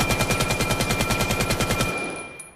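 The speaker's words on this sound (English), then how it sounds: "It's basically an AK-303, just less damage and less recoil, guys." Automatic fire from an AK-303 rifle in the video game Vail, a rapid rhythmic burst of close, loud shots for about two seconds that cuts off and leaves a short ringing tail.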